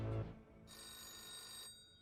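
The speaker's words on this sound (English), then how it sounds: "she gets a sudden phone call" Telephone bell ringing in a dramatic scene, a sustained bright electronic ring following a brief low thump, steady and fairly close, lasting about a second before cutting off.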